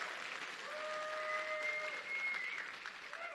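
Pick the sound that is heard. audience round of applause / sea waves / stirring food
audience round of applause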